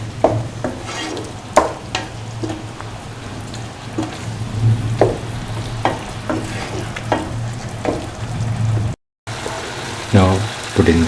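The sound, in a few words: cooking and crushing dates into paste for pickle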